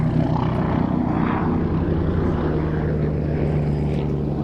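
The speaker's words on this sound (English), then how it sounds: "a helicopter really shouldn't be allowed to do all these things" A helicopter flies aerobatics at an air show, producing a loud, steady rotor and engine drone that carries unbroken throughout, with no voices over it.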